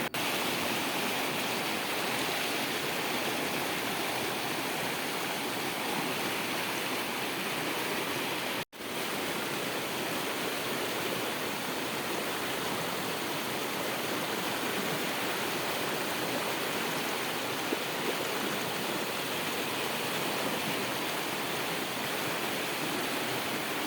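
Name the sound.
water flowing at a remote black water pool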